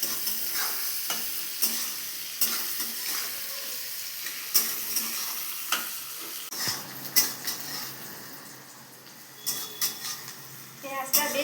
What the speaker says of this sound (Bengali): হাই ফ্লেমে মিনিট 5 ভাজলেই পেঁয়াজটা লালচে হয়ে যাবে।